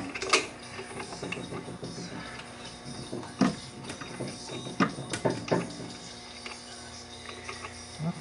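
Metal clicks, clanks and ratcheting scrapes from a bolt being fitted and threaded during a Yamaha Bravo snowmobile engine swap, close and irregular with short pauses between bursts.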